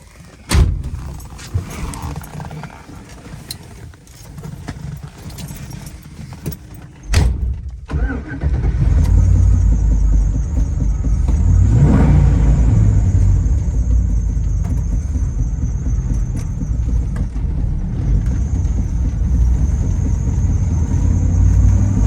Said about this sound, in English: We're gonna take this car for a little ride.